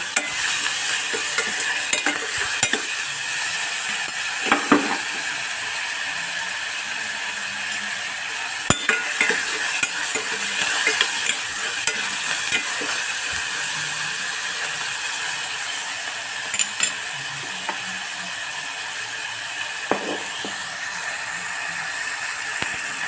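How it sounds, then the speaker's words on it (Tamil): Tomatoes sautéing with salt in a pan for chicken gravy give a steady, close sizzle throughout, broken by frequent scraping and clicking stirs of a spoon against the pan. "தக்காளி நல்லா வதங்கிக்கிட்டோம் இது வதங்குறதுக்காக கொஞ்சம் உப்பு போட்டுக்குவோம்"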